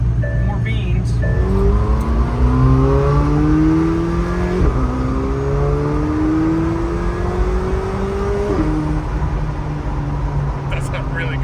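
A McLaren 720S engine pulls hard up through the gears with some boost, pitch rising and dropping at each shift, loud and close with some voices underneath.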